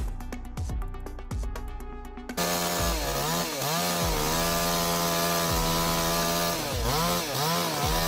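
A small chainsaw roars into life while felling a tree, running loud and close with repeated dips and surges in pitch as the chain bites into the wood, after a few sharp knocks at the start.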